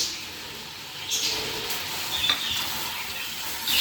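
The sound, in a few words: cumin and turmeric sizzling in a karahi with green chilies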